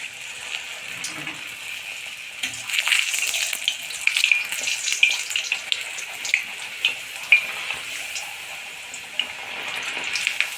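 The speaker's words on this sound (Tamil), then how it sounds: "இப்போ நம்ம வந்து எண்ணெயை சூடு பண்ணியிருக்கோம் இதில் போட்டு பொரிச்சிக்கலாம்" Mint and coriander puris frying in hot oil, a steady bubbling crackle with scattered sharp pops and spits, close and continuous with no voices.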